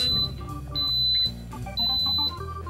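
An Instant Pot electric pressure cooker beeps through a series of high electronic tones with short pauses as it is set to manual for 45 minutes, close and clear with no talking.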